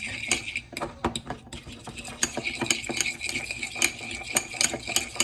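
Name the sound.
mixing egg whites with a fork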